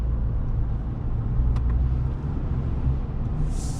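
A 2020 Chevy Silverado 1500 with the 3.0L Duramax turbo-diesel cruises at about 40 mph, a steady low in-cab rumble of engine and road noise, even and continuous throughout.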